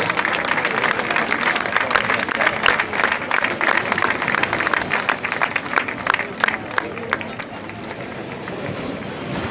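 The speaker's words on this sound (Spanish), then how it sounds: "Un aplauso también para estos chicos de la Ederra de Luchana." A crowd applauds the Ederra de Luchana rowing crew at a Castro Urdiales regatta, sustained, dense clapping under a voice over a loudspeaker, then tapering slightly.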